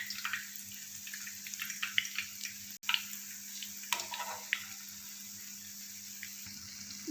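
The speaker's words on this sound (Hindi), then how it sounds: "इसको भी हम तकरीबन 2 मिनट जो है वो फ्राई कर लेते हैं" Resha kabab sizzling in a frying pan while its underside browns, a steady hissing crackle with scattered small pops and ticks over a faint low hum, close and fairly quiet.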